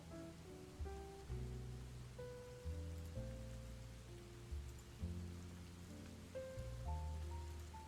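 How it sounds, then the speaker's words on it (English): Recorded rain plays as browser background music during an ASMR stream, a soft steady patter of rain on a surface mixed under a gentle tonal melody, quiet and continuous throughout. "Got that lovely rain sound."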